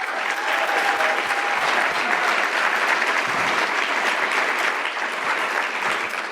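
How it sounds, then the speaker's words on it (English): A big audience claps steadily at a morning caregiver foundation event, a dense, loud, even wash of applause holding for several seconds with no talk over it. "Let's give a big round of applause for the Elizabeth Dole Foundation."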